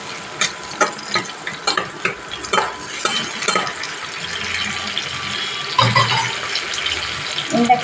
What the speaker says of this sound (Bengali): পেঁয়াজের লঙ্কাটা দিয়ে একটু ভাজাভুজি করে নেবো